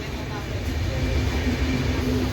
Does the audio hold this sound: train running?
yes